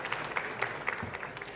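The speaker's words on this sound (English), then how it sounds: "please give a round of applause and a massive applause to the amazing project and amazing pitching" An audience at a founders and investor pitching event claps steadily, a brief round of applause from a modest crowd of many hands, fairly close and even throughout.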